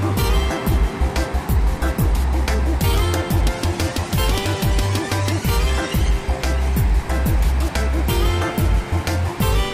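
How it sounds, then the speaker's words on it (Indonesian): Heavy ocean surf pounds the shore at Ngiyep beach in Malang in the early morning, with loud, continuous crashing and rushing water, strong and close, with no voices present. "deburan ombak terdengar keras sekali"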